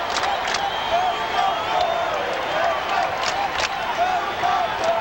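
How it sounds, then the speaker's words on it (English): Steady, dense crowd noise from baseball fans at Wrigley Field during a Phillies versus Cubs game, a continuous broad roar of hollering and shouting with a few louder peaks and no breaks over several seconds. "Crowd hollering for Patterson to park one here and keep it alive"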